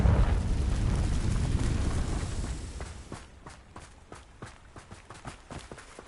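A Confringo blasting curse explosion in Hogwarts Legacy bursts as a loud, broad rumbling blast that slowly decays, followed by a run of quick, close footsteps.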